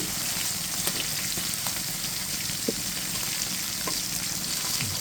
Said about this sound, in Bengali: আর এদিকে দেখুন আমার মাছটা ভাজা হয়ে গেছে, আর আবার একটু উল্টে দিচ্ছি।